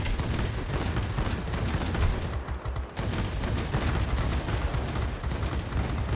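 Dense, continuous aircraft machine-gun fire from a German multirole fighter in World of Warplanes, rattling steadily for the whole stretch with a brief dip midway, loud and up close, no talking over it.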